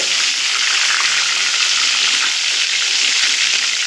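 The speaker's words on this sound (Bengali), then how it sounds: "বাকি চিকেনগুলো একইভাবে ভেজে নেব" Chicken pieces fry in hot oil with a steady, loud, close hiss and crackle that continues unbroken throughout, with no talking.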